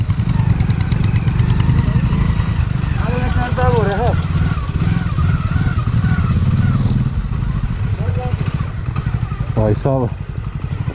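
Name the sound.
motorcycle engine on a mountain road in Spiti Valley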